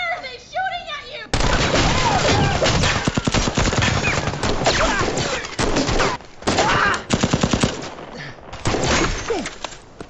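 Loud bursts of gunfire from the film Normal (2025), rapid volleys and single cracks crowding the scene for most of the stretch after a brief quieter opening, with shouting voices mixed in.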